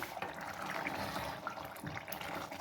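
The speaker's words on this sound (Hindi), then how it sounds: "और हम इसमें थोड़ा सा पानी डाल के इसको" Water pours steadily into a pressure cooker of peas and minced meat, a soft continuous splashing trickle heard close up without any talking.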